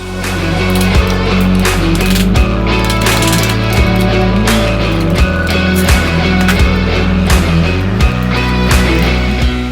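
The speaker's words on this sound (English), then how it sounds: "So we're just tapping them out first." Metal pins on a Z440 motorcycle seat being tapped out, with sharp, evenly spaced knocks repeating about every second over a steady background hum, close and fairly loud, no talking.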